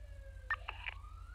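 A police car siren in GTA V sweeps in a steady wail, with brief yelping bursts and chirps in the middle, heard over a constant low engine drone.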